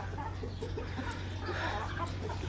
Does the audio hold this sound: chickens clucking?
yes